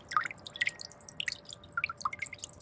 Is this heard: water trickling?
yes